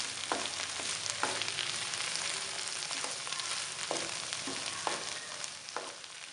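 Sohanjna (drumstick) sabzi roasting in a pan, with a constant close sizzle and scattered scraping stir strokes throughout and no talking.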